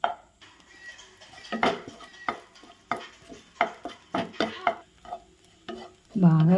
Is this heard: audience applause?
no